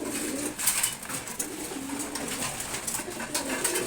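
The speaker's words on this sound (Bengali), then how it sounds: "রেড চেকার কবুতর।" A red checker pigeon coos in low, throaty rolls, close by and repeating softly over a faint background hiss.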